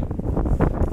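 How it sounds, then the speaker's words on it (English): Strong wind buffets the microphone beside a canal where a fishing match is on, a steady low rumble with gusts swelling near the middle of the one-second stretch. "And it's still very windy."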